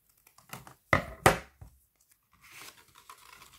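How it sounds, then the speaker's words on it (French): Scissors cut through sticker sheets in a few close, crisp snips and tearing crunches, two sharp ones standing out, followed by softer paper rustling and handling. "je vais devoir couper parce que ça ne rentre pas"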